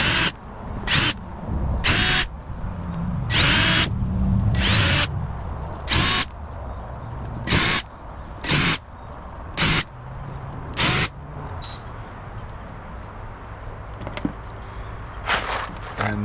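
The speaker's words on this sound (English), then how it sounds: "I'm going to take and countersink this just a little bit" Power drill countersinking wood for screw heads while building a wooden planter, about a dozen short whining bursts in a broken rhythm, loud and close, with pauses between them.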